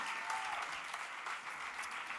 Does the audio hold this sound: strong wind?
no